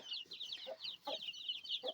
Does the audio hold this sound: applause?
no